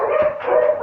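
Dogs barking at close range, a short burst of rapid, bright yelping barks that run together over less than a second.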